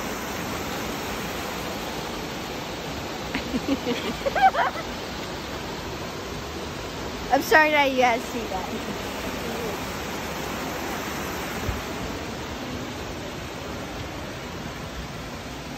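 Constant broadband rush of a waterfall splashing over rock, steady and moderately loud throughout, with brief voices talking over it in a couple of spots.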